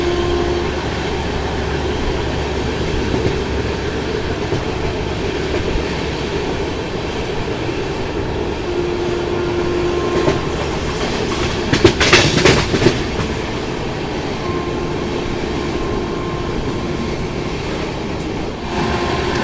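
Rajdhani Express train running through Hasanpur Road junction in Bihar on a misty winter morning: a steady rumbling roll of the carriages with clickety-clack over the rails, and a brief louder clatter of passing points midway.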